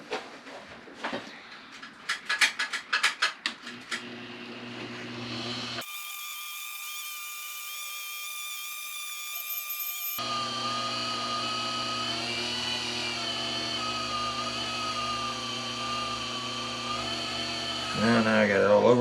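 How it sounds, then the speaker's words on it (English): A rod wrapper motor spinning a rod blank during epoxy marbling under an exposed reel seat, a steady whining hum that keeps on after a few brief clicks and rattles near the start. "I'm going to put it in the wrapper motor"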